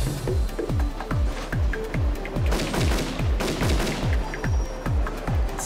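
Rapid gunfire from a Beretta pistol in a narrated story aboard a train speeding at 80 km/h, heard as a steady run of about a dozen loud, evenly spaced shots with nothing else over them.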